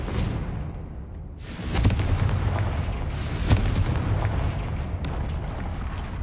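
Fire spells blast in Hogwarts Legacy as a series of deep booming explosions, three or so heavy bursts over a constant rumbling game background.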